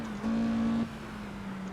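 A turbocharged Mazda MX-5 in a racing video game: a steady, droning engine note holding one pitch, briefly louder in the first half second, then sliding slightly lower, continuous and close.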